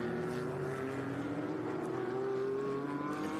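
Race cars, a Mustang, Camaro and Porsche, in an SVRA feature race at COTA, heard as a steady, dense engine roar with a smooth tonal drone that rises slightly, sounding moderately distant and continuous.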